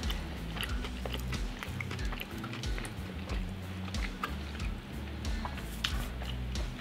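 Close, loud chewing of crunchy Wingstop chicken wings, with irregular wet crunches and bites coming one after another with no talking.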